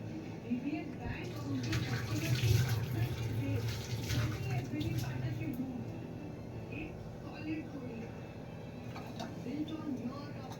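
Cut garlic is rinsed under a running tap, a soft, steady trickle and splash of water heard close by and fairly quiet.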